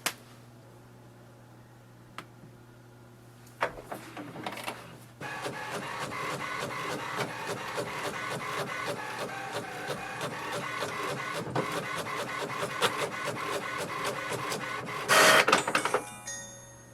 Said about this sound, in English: Printer has printed the welcome sheet